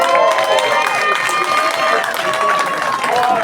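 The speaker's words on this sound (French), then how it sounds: "Je voudrais qu'on l'applaudisse" An audience at a municipal bouillabaisse gathering in Saint-Mandrier applauds steadily, a continuous wash of clapping with some cheering and crowd murmur, fairly loud and sustained.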